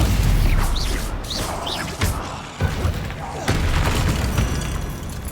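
Repeated booming spell blasts from Hogwarts Legacy combat, with thuds and crashes at about two, two and a half and three and a half seconds over continuous game noise while a player calls out spell names.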